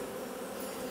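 Honey bees hum around an open hive of brood frames, a continuous dense buzz held at an even level for a brief moment.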